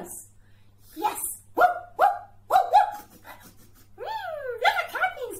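A person imitates a dog with a run of short barks and a few rising yelps, close and fairly quiet over a low steady hum.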